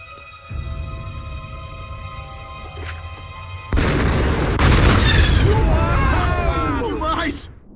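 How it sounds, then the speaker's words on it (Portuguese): A deep rumbling cartoon explosion boom swells up and holds, loud and close, over a steady background hum, with excited voices rising near the end. "uma explosão acontece, fazendo com que Franklin se dê muito mal"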